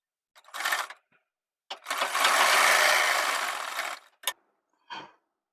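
Domestic sewing machine attaching a pocket onto a 3-year-old boy's kurta, with a short burst, a longer steady run of close stitching, and a few quick stitch taps, no talking.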